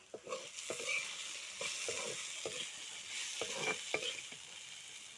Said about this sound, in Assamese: এয়া ৰাতি সাজৰ কাৰণে ভাজি।